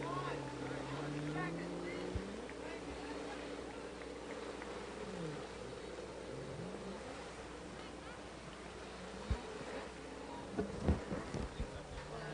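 Watercraft engines from a pro watercross championship race in Naples, Florida drone at a distance through steady water and wind noise, with a few sharp bumps near the end and a commentator's voice over the top.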